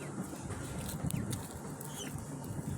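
Chickens cluck softly and intermittently at a poultry market, against a dense, noisy background of bustle.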